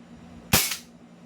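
A single loud gunshot from an MK1 sniper rifle, one sharp close crack that decays quickly, with no voices over it.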